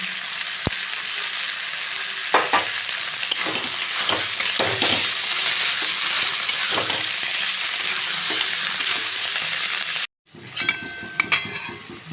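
A fish head ghonto simmers and sizzles steadily in a pan as powdered roasted cumin is added and stirred in with scraping strokes, ending in a brief silence followed by a few clinks and knocks.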